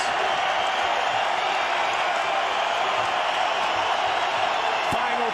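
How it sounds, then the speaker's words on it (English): Arena crowd at a mixed martial arts fight featuring St. Pierre, a steady wash of cheering and murmuring that fills the whole clip at an even, moderate level. "And the crowd reacts."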